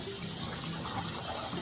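Water running steadily from a tap for a puppy's bath, a continuous close splashing rush with no pauses and no talking.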